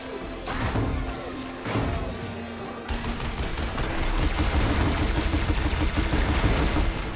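Gunfire and impact bursts in the video game Horizon Forbidden West. Heavy thuds and crashes at first, then a dense, rapid run of shots and hits that grows louder toward the end, with no speech over it.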